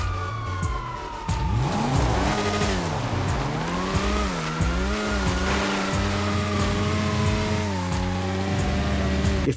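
A motorbike in Grand Theft Auto Online, on the Cluckin' Bell Farm Raid, revs continuously, its engine pitch rising and falling in repeated sweeps, loud and close, with no talk over it.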